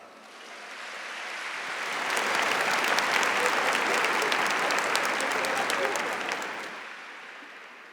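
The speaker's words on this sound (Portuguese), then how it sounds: "Aplaude essa palavra." A church congregation applauds, dense clapping swelling to a full, steady roar that holds for several seconds before easing off, close and filling the space.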